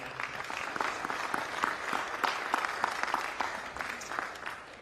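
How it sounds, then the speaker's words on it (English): Steady applause from a sizable crowd for a brass band at a pre-Super Bowl security briefing, continuous clapping throughout with no break. "give a little round of applause"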